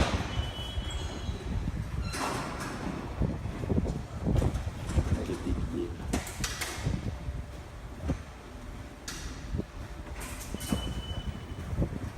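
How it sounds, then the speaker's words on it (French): A Paris metro train rumbles along the rails with steady wheel noise, brief high squeals and clicks of the cars, loud and close throughout with no talking. "on s'en va au métro de Paris"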